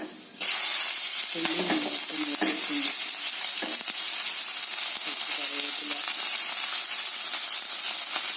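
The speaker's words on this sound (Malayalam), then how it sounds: "ഈ എണ്ണയിലേക്ക് കടുക് ചേർത്ത്" Mustard seeds pop and sizzle in hot oil, a loud busy crackle with scattered sharp pops and a hint of stirring throughout.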